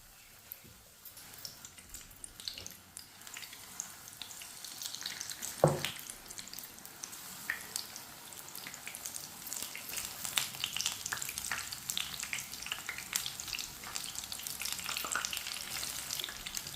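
Battered pakoras frying in hot oil give a continuous crackling sizzle that builds steadily, with a sharp clatter partway through as more pieces drop into the pan.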